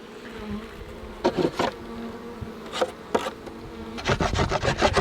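Steady buzzing of honey bees throughout, with several louder close passes and scraping, rubbing sounds over a constant background hum.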